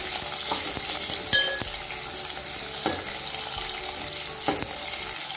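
Onion, garlic and green chillies fry in hot oil with a continuous loud sizzle, punctuated by occasional clinks and scrapes of a spoon against the pan.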